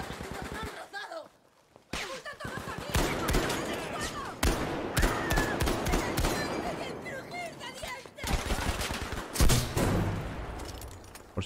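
Rapid bursts of gunfire in Battlefield V on PS4 crackle throughout, with dense overlapping shots and a brief lull near the start, loud and busy.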